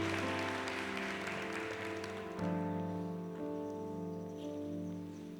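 A church congregation applauds during a Catholic sermon, a soft, steady patter of many hands clapping at a distance that fades midway as sustained organ or keyboard tones take over beneath.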